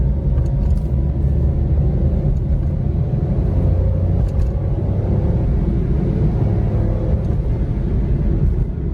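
Steady low rumble of a Suzuki Alto VXi's small car engine while driving, fresh 0W-20 oil, constant and close, with road noise and no voices.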